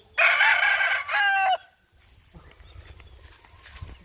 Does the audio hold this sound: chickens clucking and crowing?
yes